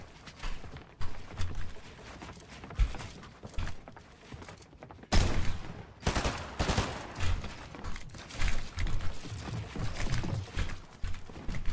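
Rapid SMG gunfire bursts in a Fortnite-style building fight, coming in several irregular volleys of shots amid construction clatter and other game effects, fairly close and loud.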